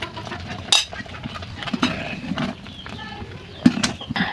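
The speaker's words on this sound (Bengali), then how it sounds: "এখন আমি ভালোভাবে নেড়ে ছেড়ে দিব" A spoon stirring sabudana payesh with nuts and raisins in a pot, giving soft scraping and occasional sharp metallic clinks against the pot, with a person talking throughout.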